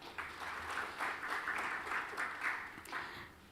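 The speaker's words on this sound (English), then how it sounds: "That's a round of applause for Uganda." Audience applause at an African financial markets and economic outlook forum, a steady patter of clapping over about three and a half seconds, moderately faint and without speech.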